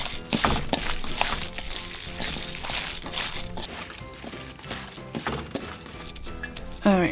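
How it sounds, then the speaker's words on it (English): Pork egg roll filling stirred and mixed with oyster sauce in a bowl, wet squishing and scraping strokes repeating close up at a steady pace, with faint background noise throughout. "Alright, so I'm going to mix it really quick."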